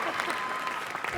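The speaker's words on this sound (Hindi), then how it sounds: "एक बार जोरदार तालियां" Studio audience clapping on a comedy talk show, a short, steady wash of applause heard at moderate distance with no individual voices standing out.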